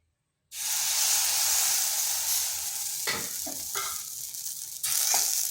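Batter poured into a hot, lightly oiled kadai for chitoi pitha bursts into a loud, steady sizzle after a short silence, with a few scraping sounds partway through and a fresh surge of hiss near the end.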